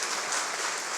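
An audience in a church claps briefly and steadily for the people who provided the flowers, a short dense burst of applause.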